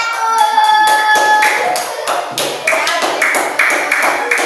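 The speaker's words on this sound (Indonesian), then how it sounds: "Oke, kita beri tepuk tangan untuk kelompok 1." A classroom of students claps for a group of classmates during an elementary-school lesson, with brisk, scattered clapping close by and voices talking over it.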